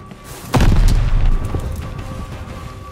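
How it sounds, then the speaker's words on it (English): A grenade explodes in the Call of Duty Vanguard video game, a sudden loud booming blast about half a second in that rolls on with a long rumbling tail. "Enemy grenade!"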